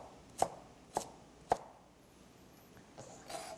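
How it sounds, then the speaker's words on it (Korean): A knife chops carrot into small pieces on a cutting board, three crisp, evenly spaced thuds followed by a couple of softer knocks and scrapes, close and quiet with no speech. "이것도 마찬가지로 작게 썰어주세요."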